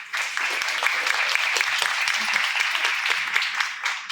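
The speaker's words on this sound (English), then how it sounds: "big, warm round of applause for this wonderful panel." An audience applauds steadily, a dense, sustained patter of many hands clapping that holds throughout and begins to fade at the end.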